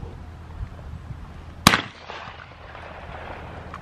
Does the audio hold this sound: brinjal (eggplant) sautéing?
no